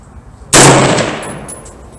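A single loud shot from a 6.5 Creedmoor AR-10 rifle at the range cracks sharply and then rings out over about a second and a half.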